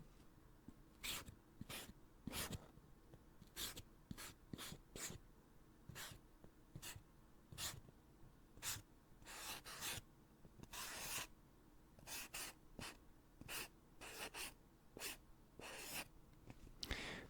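Handwriting a word on paper, very close and quiet, with short scratchy pen strokes and rubbing in irregular bursts separated by brief pauses, no talking.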